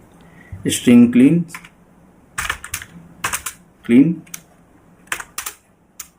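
Someone types code comments on a computer keyboard in short bursts of close, crisp key clicks, with a voice speaking between and over the typing.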